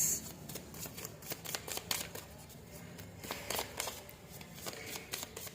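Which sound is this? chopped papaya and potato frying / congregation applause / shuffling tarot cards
shuffling tarot cards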